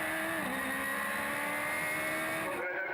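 High-revving Radical race car engines roar continuously at Castle Combe circuit with rising and falling pitch as they accelerate, loud and sustained, cutting off abruptly at the end.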